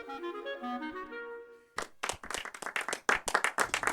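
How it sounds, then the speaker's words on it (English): After a sustained violin note fades, a small group breaks into clapping, uneven sharp claps close by, quickening into a light scattered patter with several louder individual slaps. "Lily once again received applause"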